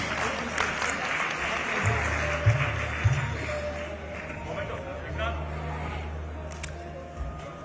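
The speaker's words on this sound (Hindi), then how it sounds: "आप तालियों से अभिनंदन कर दीजिए प्लीज।" A welcoming round of applause from an audience at a formal event in a hotel hall, heard as a soft, steady spatter of many hands that stays fairly far off, with a low hum and murmuring voices beneath it.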